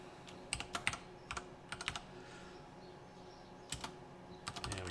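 Typing on a computer keyboard in quick irregular bursts of sharp, close key clicks, with short pauses between flurries over a quiet room hum.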